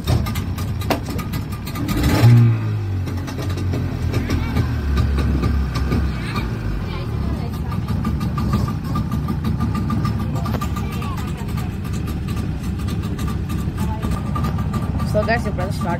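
Engine of a deluxe tour boat at Sangala Park pond in Gadwal starting with a brief burst and then idling in a steady low rumble, while someone talks over it throughout.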